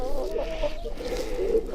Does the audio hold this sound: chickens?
yes